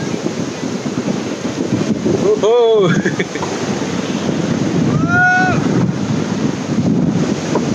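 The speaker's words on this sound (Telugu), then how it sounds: "గాలి మాత్రం గట్టి ఉంది ఇక్కడ" Strong wind on a beach in Goa buffets the microphone in a constant, heavy rumbling roar, with surf underneath and a man's brief exclamations cutting through.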